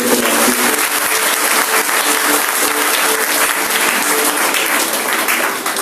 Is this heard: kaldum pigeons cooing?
no